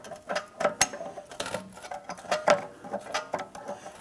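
A flathead screwdriver turns the e-brake shoe adjuster on a 2011-2021 Jeep Grand Cherokee's rear brakes, giving a quick run of small ratcheting clicks and metallic ticks, close and fairly loud, with no talking.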